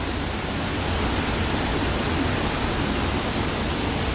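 Water pours through leaky canal lock gates, heard from a narrowboat in the lock chamber: a dense, unbroken roar that holds steady and fairly loud throughout, with no voices.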